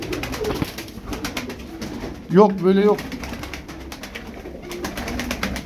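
Tumbler pigeons give a clear, close coo lasting under a second, set against constant rustling and someone talking over it.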